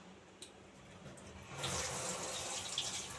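Running tap water rinses a bay leaf in a kitchen sink, quiet at first with a small knock, then a steady louder stream splashing for the last half.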